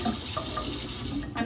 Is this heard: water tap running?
yes